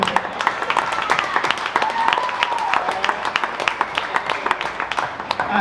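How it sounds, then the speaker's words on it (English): Wedding guests clapping at a reception, a lively mix of individual hand claps with some voices and chatter mixed in, fairly close and steady throughout. "Give her a round of applause, Ryan"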